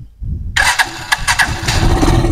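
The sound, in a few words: Rusi Chariot 175 motorcycle engine starting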